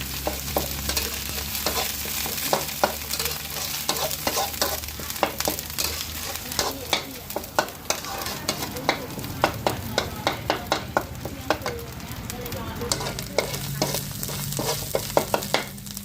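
Thai chili curry paste is stir-fried in a pan, with a steady close sizzle and frequent rhythmic scrapes and clacks of the spatula against the metal throughout.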